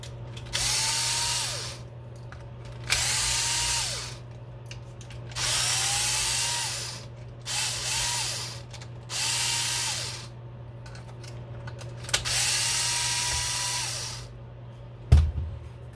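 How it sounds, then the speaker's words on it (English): A Ryobi cordless driver with a faulty switch backs screws out of a servo tray on an HB Racing D819rs RC car, sounding as repeated whirring bursts of about two seconds each, separated by short pauses, close and clear. "Take the screws out holding the servo tray in."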